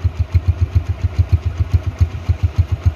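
A 2013 Honda Tiger Revo motorcycle idles with a steady, even low thump of regular pulses, close and fairly loud, with no talking.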